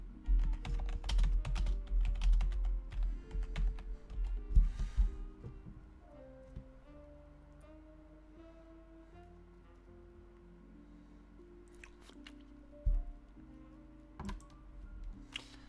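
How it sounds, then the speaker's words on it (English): Keyboard ASMR of a computer keyboard being typed on: dense soft clacking for the first few seconds, then sparse isolated key taps over a quiet low hum, with no talking. "It's my favorite ASMR, honestly."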